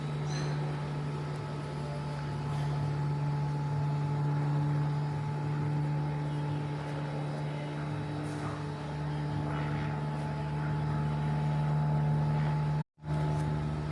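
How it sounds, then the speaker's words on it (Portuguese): An airplane passing overhead, a steady droning engine hum with a constant tonal whine that stays loud throughout, heard alone. "Esse avião aqui, passando em cima de mim."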